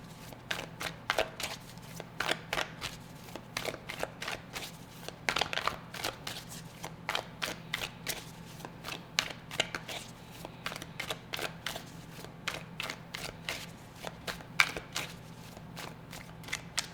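Tarot cards are shuffled and drawn in quick, crisp riffles and flicks that repeat steadily at close range and low volume, with no talk.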